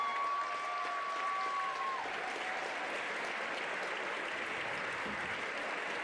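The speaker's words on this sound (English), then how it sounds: "I'd like a round of applause for our seniors, the whole group, please." An audience in a hall gives graduating seniors a steady, dense round of applause that holds at an even level for the whole stretch, with no pause.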